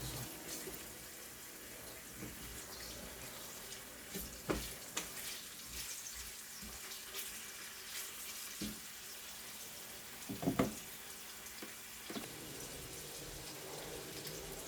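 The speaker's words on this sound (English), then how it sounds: "I just need the onions just to saute a bit" Onions sautéing in a pan, a steady close hiss and sizzle running throughout with a few soft clacks of stirring.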